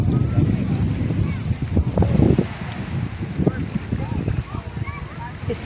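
Lakeside beach at Loyola lake, where gusty wind buffets the microphone in low rumbling bursts over soft lapping waves, with faint talk in the background.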